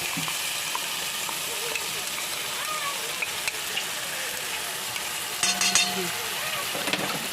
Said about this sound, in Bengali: মশলাটা দিয়ে একটু ভালো করে নেড়ে নিলাম